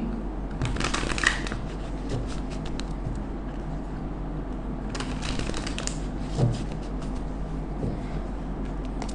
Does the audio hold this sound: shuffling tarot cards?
yes